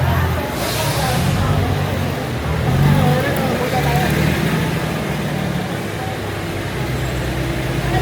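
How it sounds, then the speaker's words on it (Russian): Steady roar of city traffic in Macau with buses rumbling and idling nearby, a dense continuous din of engines and road noise. "Очень шумно из-за автобусов."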